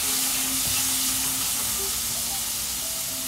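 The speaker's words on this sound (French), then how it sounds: "C'est le canard qui fait du bruit en cuisant." Steady, soft sizzling and crackling of duck breast cooking in a hot pan, a continuous hiss with a faint low hum underneath.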